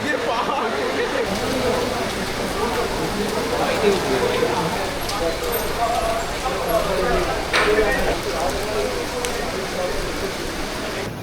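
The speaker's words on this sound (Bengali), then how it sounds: "টেকনোতে এখন বৃষ্টি হচ্ছে খুব জোরে" Heavy rain pours outdoors at the Techno Main Saltlake campus, making a dense, steady wash of noise that runs unbroken throughout, with people talking over it.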